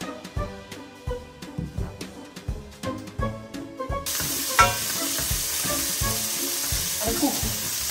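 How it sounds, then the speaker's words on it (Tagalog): Vegetables and broccoli sauté in a pan with a rhythmic clatter of stirring, then the frying builds into a loud, steady sizzle that fills the second half. "Igigisa lang naman natin yan."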